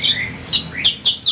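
Kacer (oriental magpie-robin) chirping alone nearby, a run of sharp, high, quick whistled notes in short rhythmic bursts.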